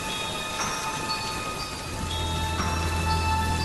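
Steady rain falls in an animated Hindi horror story scene outside a house at night, a dense continuous hiss with a low rumble joining partway through, with no talking.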